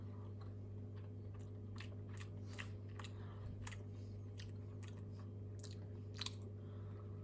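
Someone chews a soft, madeleine-like cake close to the mouth, with quiet irregular bites and mouth sounds over a steady low background hum and no talking.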